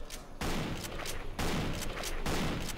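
Gunfire in the Codename Cure video game comes as several loud, dense bursts of rapid shots, separated by brief gaps.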